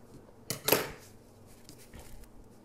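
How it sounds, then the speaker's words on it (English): A couple of quick, crisp snips of scissors cutting thread close by, followed by a faint click in an otherwise quiet room. "And then with a pair of scissors, just cut that off."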